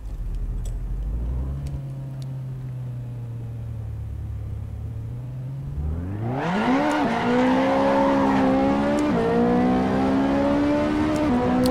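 Car on a drag strip in a racing video game: a low engine idle, then a sharp rev and hard acceleration through rising, stepping gear changes, loud and close, with no talking.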